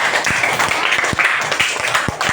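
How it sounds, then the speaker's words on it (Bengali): A group of children claps loudly for a child in a classroom, with sharp, irregular handclaps running through the whole stretch over a busy background of chatter. "ওর জন্য একটা জোরে হাততালি"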